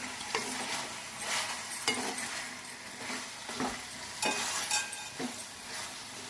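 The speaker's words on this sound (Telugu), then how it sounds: "మధ్యలో ఒకసారి కలుపుకోవాలి" Dappalam curry being stirred in a pan, with soft scraping strokes repeating every second or so over a faint steady sizzle, fairly quiet and close, with no voices.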